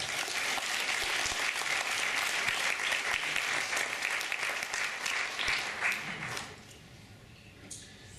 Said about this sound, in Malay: Berikan tepukan kepada mereka.